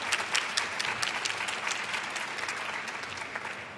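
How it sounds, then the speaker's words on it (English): Steady, full applause from an indoor audience at the National Cherry Blossom Festival kick-off, a dense wash of many hands clapping continuously at close range for several seconds with no speech. "please give them another round of applause for all their great success"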